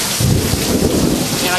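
A heavy thunderstorm with rain pours down in a dense, loud wash of noise, with a low rumble of thunder swelling underneath during the brief stretch.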